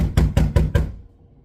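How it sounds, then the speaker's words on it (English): Four firm knocks on a door land in an even, quick rhythm, close and clear, followed by quiet. "I go knock on the door."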